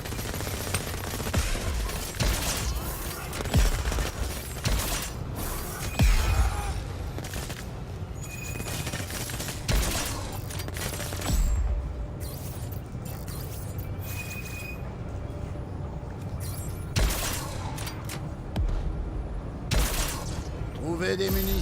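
Rapid gunfire and bursts of shooting from the video game Crackdown 3, continuous and dense throughout with occasional louder booms, heard under frequent talking.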